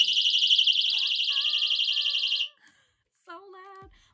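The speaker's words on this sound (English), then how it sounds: "when you pull it, an alarm goes off" A black personal safety alarm wristlet is pulled and sounds a loud, shrill, pulsing electronic siren that runs steadily for about two and a half seconds, then cuts off; a voice speaks briefly afterward.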